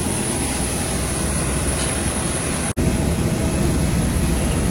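An Air India Express airplane at the airport gives a loud, steady, broadband engine roar that holds evenly, broken only by a split-second dropout midway.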